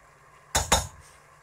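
Two quick metallic clanks of a spoon against a cooking pot while meat is stirred into spices, close and sharp over a quiet background.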